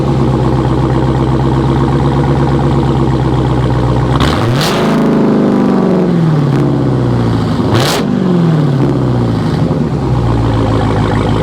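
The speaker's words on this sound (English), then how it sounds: "now let's listen to the Hellcat." A Dodge Hellcat engine idles loudly up close, then is revved hard twice with sharp roaring climbs that fall back to a rumbling idle.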